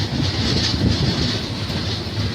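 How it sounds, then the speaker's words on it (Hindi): A Vande Bharat train on its inaugural run pulls away, a steady low rumble of rolling stock with faint clickety-clack and broadband hiss, loud and continuous from inside the carriage. "और फिर हमारी ट्रेन ने चलना शुरू कर दिया था।"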